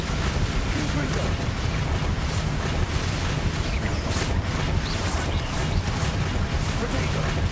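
Fiery spell blasts in the Hogwarts Legacy video game, a dense, continuous barrage of loud rumbling explosions and crashes layered with battle effects, with a voice speaking over the din.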